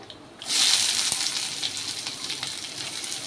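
Small onions dropped into hot sesame oil with dried chillies, erupting into a loud hissing sizzle that holds steady and slowly eases, close and without talk.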